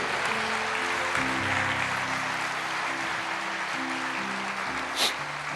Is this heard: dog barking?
no